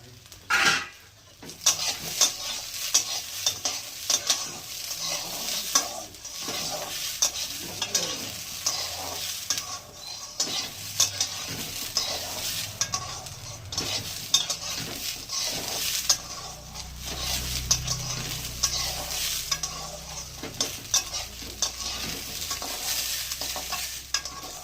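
Ginger, green chilli and peas stir-fried for a semolina pulao, with a continuous close sizzle under repeated scraping and stirring of the pan, plus occasional clinks of utensil on metal, no voices.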